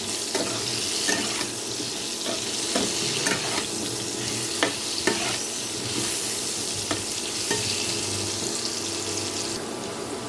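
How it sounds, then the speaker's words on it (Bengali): Large-cut potato chunks frying in a pan give off a steady, dense sizzle up close, broken by sharp clicks and scrapes as they are stirred and turned; no voices. "এখন আমি আলুটাকে বেশ একটু লাল লাল করে ভেজে নেব"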